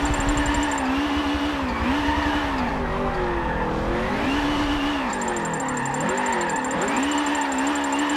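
A BMW Isetta microcar's small engine revs steadily while drifting, its pitch rising and falling in repeated sweeps with tire scrub underneath, loud and close throughout with no voices.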